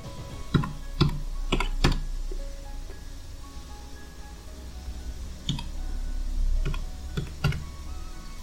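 Computer keyboard keys tapped in short clusters while a roll number is entered on an admit card download page, crisp close clicks in two bursts separated by a quiet pause.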